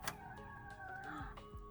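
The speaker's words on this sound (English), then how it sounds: "Made our way over to the cutest little chicken coop I've ever seen." Chickens clucking in a small backyard coop, a short burst of close fowl calls with a brief louder squawk at the start and softer clucks throughout, no talking.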